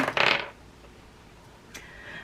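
Astrology dice tumble and clatter in one quick, bright burst near the start, then stop, leaving a quiet room.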